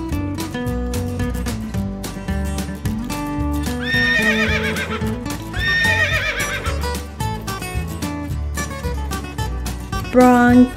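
Two shrill, wavering horse whinnies ring out over bouncy children's music, with a rhythmic clip-clop of hooves running underneath.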